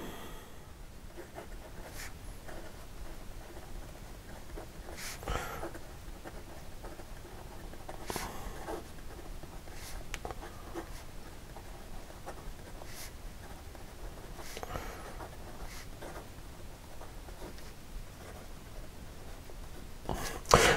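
A fountain pen with a medium nib scratches across paper in faint, intermittent strokes, with short soft scraping bursts separated by quiet pauses, very close and alone.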